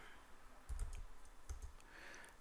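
Quiet typing on a computer keyboard, a couple of short bursts of key clicks separated by a pause, close and soft, with no talking.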